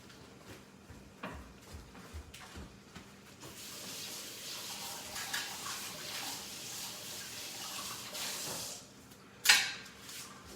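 Water runs steadily from a kitchen tap while a pot used for cooking khichari is washed out, a hissing spray lasting several seconds and ending in a brief louder splash.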